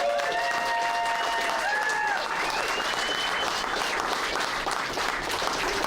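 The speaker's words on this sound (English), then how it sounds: "So let's give him another round of applause." Steady applause from an audience at a hometown hero event in Franklin honoring the town's police chief, dense clapping sustained throughout with a few whistles rising above it.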